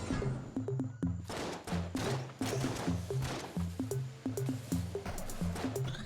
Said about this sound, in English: We'll fire off a few Rifts first.